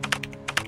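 A computer keyboard being typed on in a few quick bursts of clicky keystrokes, close and fairly quiet, with short pauses between clusters.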